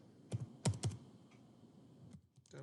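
Typing on a computer keyboard: a few distinct close key clicks in a small cluster, then quieter scattered taps, faint overall.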